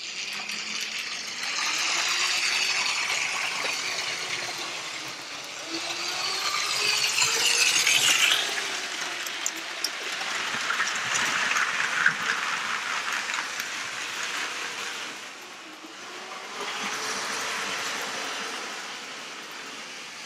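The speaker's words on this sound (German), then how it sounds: "jetzt machen wir noch einen Schlussshot mit der 4565, wie sie hier in die Innenstadt reinfährt" A Lego City 9V train, model 4565, runs on track into a model city centre, giving a continuous whirring motor hum with rattling, clicking wheels that swells and fades as it passes, with no voices.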